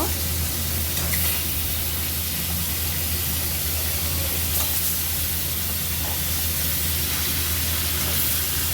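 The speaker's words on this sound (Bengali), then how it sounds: "কড়াইয়ে তেল গরম হয়ে গেছে, মাছগুলো দিয়ে দিলাম। সব কটা পিস ভালোভাবে ভেজে নেব।" Fish pieces fry in hot oil in a kadai, making a constant, dense sizzle and hiss that stays even and close throughout. A low steady hum sits underneath.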